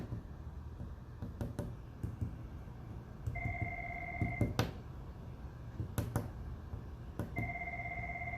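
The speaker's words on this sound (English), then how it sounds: "my phone is ringing while I'm recording this." A phone rings twice, each ring a steady electronic tone lasting over a second, heard faintly in a room amid soft tapping and thumping of clay being shaped on a table.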